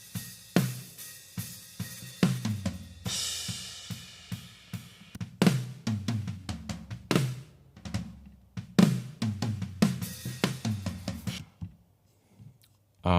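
A worship-style drum groove mixed from overheads and snare with the snare's phase flipped, with a steady beat of snare cracks, kick thumps and cymbal wash, played continuously and alone.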